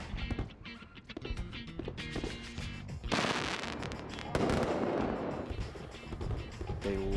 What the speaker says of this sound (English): They've decided to put on a fireworks display just outside our window that continues well into the night.